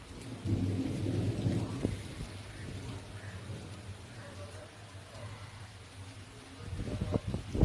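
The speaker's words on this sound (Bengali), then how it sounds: "যে পরিমাণ মেঘ ডাকছে সেই অনুযায়ী বৃষ্টি হচ্ছে না" Low thunder rumbles under steady rainfall outdoors, swelling at the start and again near the end, with a continuous patter of rain throughout and no clear speech.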